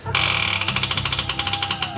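Impact wrench hammering on the starter of an LS engine, a loud rapid rattling burst that settles into a steady pulsing chatter of repeated blows, close by and alone.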